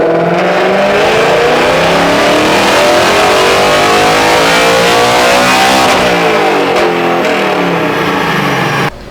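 Ford Mustang S650 running on E85 fuel pulls hard in third gear, its engine revving loud and rising steadily in pitch up to high rpm close by before cutting off at the end.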